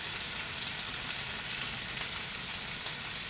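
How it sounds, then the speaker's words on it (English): Vegetables sizzle steadily in a hot sauté pan, a dense, even hiss that stays loud and close throughout with no voices. "you want to hear that sizzle as soon as you're putting stuff in the pan"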